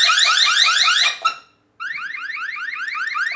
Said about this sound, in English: Camera still sounding the alarm.